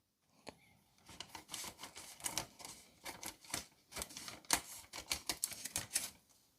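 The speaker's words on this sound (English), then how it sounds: "What you want to do is you simply want to cut it off from the bag." Scissors cut the closing strip off a Ziploc plastic bag in a rapid, uneven run of crisp snips and crinkles. The sound is faint and close, with no talk.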